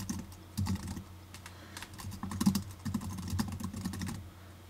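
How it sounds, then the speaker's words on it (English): Computer keyboard typing as an edit summary is entered for a new wiki page, a steady run of close, rapid key clicks with short pauses and no talking. "you can type in your edit summary up in this box right here."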